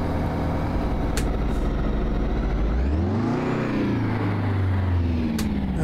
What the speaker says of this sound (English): Now I give it a bit of throttle like you're not supposed to.